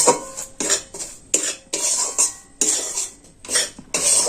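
Spices being fried and stirred in a pan, heard as bursts of metal spatula scraping and clinking against the pan in an uneven rhythm, close and fairly loud, no talk.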